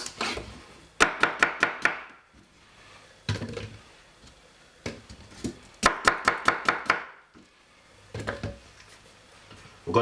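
Cucumber chopped on a board: quick runs of crisp, evenly spaced knife strikes, four or five in a row, repeated in several close, moderately loud bursts with short pauses between.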